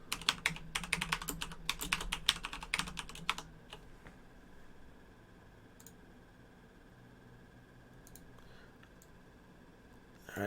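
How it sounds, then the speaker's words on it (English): Loud gaming keyboard clacking in rapid, dense bursts of keystrokes for a few seconds, then falling mostly quiet apart from a few isolated clicks near the end. "Nice loud gaming keyboard noise for anyone who actually needs keyboard fully."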